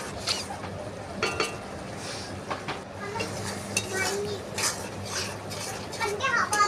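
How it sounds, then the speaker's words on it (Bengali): A spoon scrapes and clatters in a pan while spice paste with a little water fries for prawn pulao, giving irregular stirring knocks over a soft sizzle, with voices talking in the background. "একটু সামান্য জল দিয়ে মশলাটাকে কষিয়ে নিচ্ছি"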